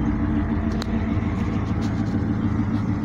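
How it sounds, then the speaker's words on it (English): A Holden Commodore VX SS with an LS1 5.7-litre V8 and six-speed manual gives a deep, steady rumble that stays loud and even, with little change in pitch. "Rev them again, Unks."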